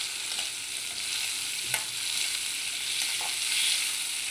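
Dried red chillies and tamarind sauté in a pan with a steady, close sizzle broken by a few faint stirring scrapes. Nobody speaks.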